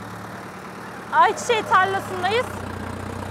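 A tractor engine idles in a sunflower field as a low, steady drone, while a person speaks clearly over it for a couple of seconds.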